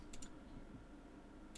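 Keys tapped on a computer keyboard, a couple of quick clicks at the start and one more near the end, faint and close against a quiet background hum.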